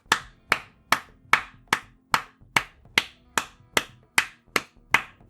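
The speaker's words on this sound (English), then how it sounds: "Just stand up and clap." One person claps alone, about a dozen sharp, evenly spaced claps at a steady brisk rhythm, close and clear with nothing else beneath.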